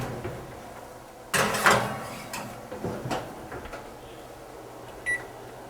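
Mini cheesecake baskets are placed into a preheated oven: a sharp clatter of the door and rack, followed by several softer knocks and a brief high tone near the end, all close by in a quiet kitchen.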